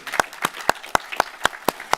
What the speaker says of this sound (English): So let's clap for yourselves for coming on out